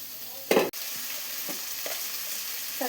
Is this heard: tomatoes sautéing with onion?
yes